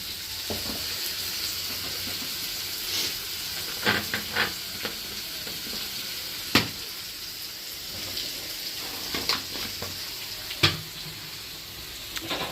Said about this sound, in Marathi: गॅसवरती सर्वप्रथम तेल टाकून त्याच्यामध्ये मग कांदा लसूण आणि कढीपत्ता मिरची कोथिंबीरचं वाटण टाकलेलं आहे